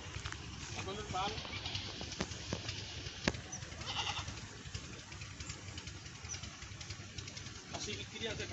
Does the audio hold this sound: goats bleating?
yes